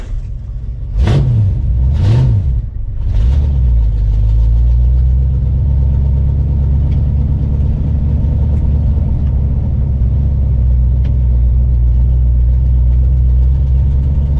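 A 1967 Ford Mustang Fastback engine gives three sharp revs, then settles into a steady, loud, low rumble as the car drives, with no talking.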